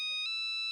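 A short burst of an electronic phone ringtone, bright sustained tones with a brief pulse, loud and close.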